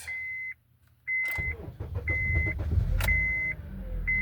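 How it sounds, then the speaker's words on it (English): A Honda car engine cranks with a slight hesitation and then starts after a crank sensor relearn, giving a low rumble, while repeated electronic chimes beep in steady bursts over it. "It kind of hesitated while cranking"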